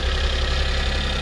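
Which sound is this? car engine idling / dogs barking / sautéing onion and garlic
car engine idling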